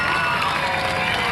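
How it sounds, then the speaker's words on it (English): A speedway crowd at an Australian hot rod title meeting in Adelaide roars and cheers for the champion, a loud continuous wash of voices throughout. "Give him a big cheer, ladies and gentlemen."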